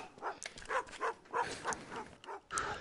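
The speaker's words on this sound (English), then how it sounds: "Yeah, I've killed two of the dogs." Dogs in a VR shooter game yelp, whimper and bark in a string of short, mid-loud bursts about every half second, one overlapping the next.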